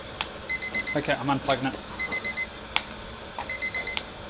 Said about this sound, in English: that alarm's just going to keep bugging me